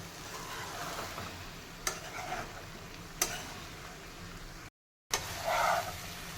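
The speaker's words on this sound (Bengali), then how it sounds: "যে ডিম আর আলুটার মধ্যে দিয়ে দেওয়ার পরে ভালো করে এটাকে মিশিয়ে দেবো।" A spoon stirs fried potato and egg into a sizzling egg curry with soybean, giving soft scraping strokes and a few sharp clinks against the pan over a steady frying hiss, with one brief dropout.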